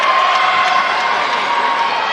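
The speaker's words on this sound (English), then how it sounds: "The crowd around us obviously doesn't like that call either." Spectators at a boys' U17 national basketball grand final roar and shout in a loud, sustained crowd din, reacting against a referee's foul call.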